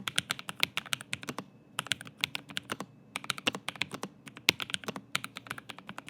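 Low-profile mechanical keyboard being typed on, a quick, close run of soft, muffled clicks in bursts with brief pauses between, no voices.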